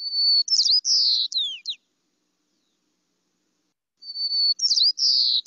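A white-crowned sparrow's recorded song plays twice, each a clear whistled phrase followed by buzzy trills, separated by a few seconds of silence, loud and alone with no talk.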